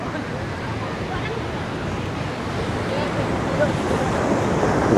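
Steady ocean surf rolls onto Seminyak beach in Bali near sunset, a continuous broad wash of waves with wind noise on the microphone and faint crowd babble from the busy sand.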